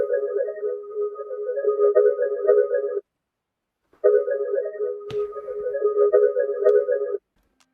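A sampled music phrase, pitched down three semitones, plays as two sustained tonal passages separated by a short gap, with a bright transient hit midway through the second.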